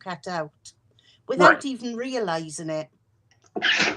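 A single sharp, close sneeze follows a person talking indoors.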